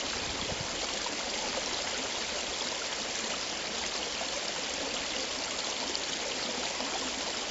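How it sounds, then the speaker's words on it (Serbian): Polluted river water from the Bor lake direction flows in a steady, rushing wash, close and constant with no pauses or voices. "A ovo je voda iz pravca Borskog jezera, Brestovačke banje i Brestovca."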